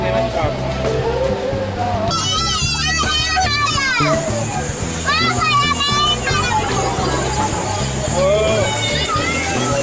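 Crowded Digha sea beach in West Bengal, with people bathing in rough waves: a steady wash of surf and water under lively crowd babble and children's shrieks, with excited high-pitched voices rising and falling close by throughout.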